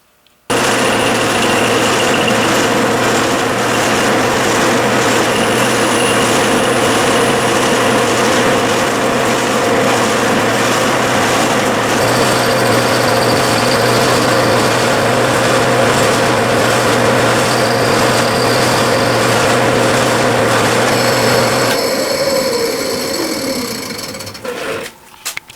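A metal lathe faces the end of a piece of Delrin stock, giving a loud, continuous motor whine and cutting drone that holds steady for over twenty seconds, then winds down as the machine stops.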